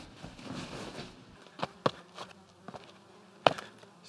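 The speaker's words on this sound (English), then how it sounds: "So many bugs." Insects buzz in an Australian rainforest near the Lake Mountain summit, a continuous droning hum with several sharp, brief clicks or taps standing out.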